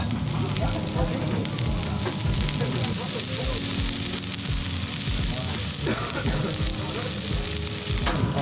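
Vegetables fry loudly in a hot pan, with a dense, constant sizzle and crackle and the occasional scrape of stirring, steady from start to finish.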